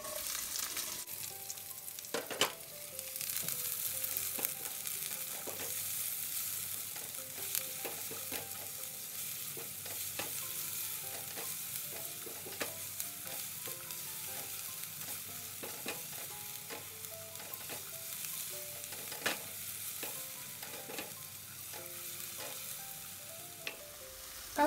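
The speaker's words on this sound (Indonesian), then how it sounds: "Tumis bawang putih dan bawang merah sampai harum." Garlic and shallots sizzle steadily in hot cooking oil in a pan, with occasional scrapes and clicks of stirring, close and continuous, with no voices.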